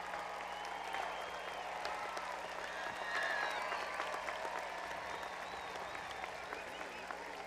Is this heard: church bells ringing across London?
no